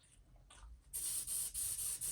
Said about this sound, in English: And I use a little acetone to clean it out, spray it out.